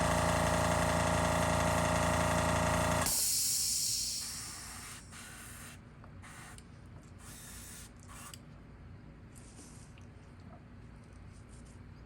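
An airbrush hisses paint onto a fishing lure, a loud broadband spray in the first three seconds, then shorter intermittent bursts over a steady low compressor hum.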